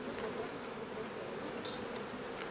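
A dense, steady buzzing of many honeybees in Berlin, continuous and fairly close, with no voices.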